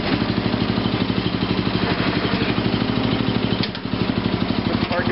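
A 1987 rally tractor engine at low idle with a lean misfire: a loud, close, chugging clatter with an uneven beat and a brief dip and stumble partway through.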